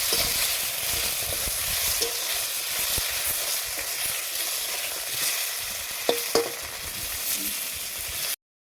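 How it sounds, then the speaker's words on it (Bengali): Potatoes fry in hot oil with turmeric and a little salt, giving a steady, close sizzle and crackle that runs throughout, with a few sharper pops and stirring clinks near the end. "দিয়ে আলুগুলো দিয়ে দিলাম, হালকা একটু নুন দিয়ে দিলাম, দিয়ে আমি আলুগুলো ভেজে নেবো লাল লাল করে"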